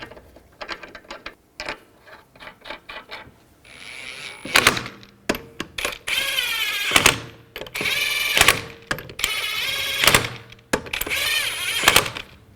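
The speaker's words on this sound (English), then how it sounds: "Install the wheel. Put the lug nuts on." A car wheel being fitted onto the hub of a 2010-2017 Chevrolet Equinox, with lug nuts spun on by a ratcheting tool: a run of clicks and clunks, then several loud bursts of ratcheting whir, close up and with no voices.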